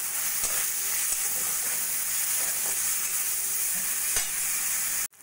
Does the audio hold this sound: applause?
no